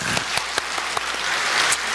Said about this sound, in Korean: 우리 방금 대답하신 분들 우리 박수로 격려해 주세요.